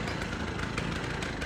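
A turbocharged Polaris snowmobile with a straight pipe runs loud and close, a harsh, buzzing two-stroke drone that holds steady and rasps much like a chainsaw.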